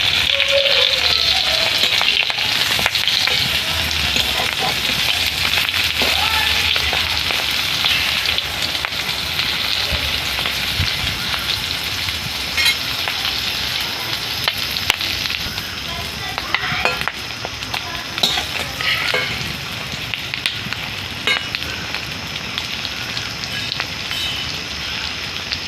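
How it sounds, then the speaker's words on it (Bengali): Fish roe fritters wrapped in fresh bottle gourd leaves fry in oil over low heat, giving a continuous, even sizzle with faint crackles and occasional soft stirring sounds throughout. "তো একটু টাইম নিয়ে উল্টে পাল্টে ভেজে নেব।"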